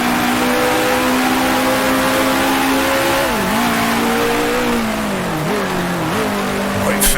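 A 1966 Formula One car screams in Grand Prix Legends during the 1966 Syracuse Grand Prix. A loud, steady high engine note holds near and dips briefly at each gear change, with a faint squeal at the end.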